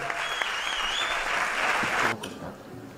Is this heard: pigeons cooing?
no